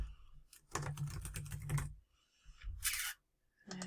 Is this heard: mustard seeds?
no